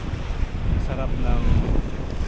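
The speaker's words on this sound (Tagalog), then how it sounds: "Ang sarap ng simoy ng hangin pag nandito po tayo." Steady wind rushing across an open microphone outdoors in Ilocos Sur, a loud low rumble with faint water sounds and a brief hint of voices in the background.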